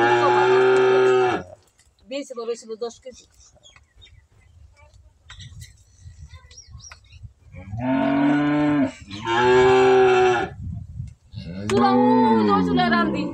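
Several loud, drawn-out cow moos close by, separated by quieter gaps with faint chirping birds and a brief spoken remark.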